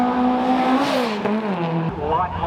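Race car engine at the Geelong Revival motor event, a loud, steady, close engine note that rises and falls slightly across the clip, with a brief dip near the end.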